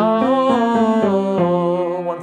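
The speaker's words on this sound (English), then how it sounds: "An exercise now that heads over the secondo passaggio, also called the break. These are thirds" A mezzo-soprano sings a warm-up exercise in thirds that climbs over the upper break. Her clear, sustained notes step up and down one after another, close and alone.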